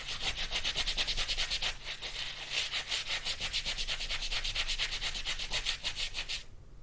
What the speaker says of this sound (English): I was scrubbing the soles to the right shoe